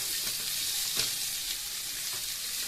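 Onion and ginger fry together in hot oil in a pan, giving a continuous close sizzling hiss with one brief knock of a spatula partway through, and no voices.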